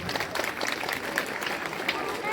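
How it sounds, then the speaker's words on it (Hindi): A school audience claps loudly for teachers and officials at a Republic Day gathering, a dense steady patter of many hands under a speaking voice. "मैं चाहता हूं इन सब के लिए एक बार जोरदार तालियों से स्वागत होना चाहिए"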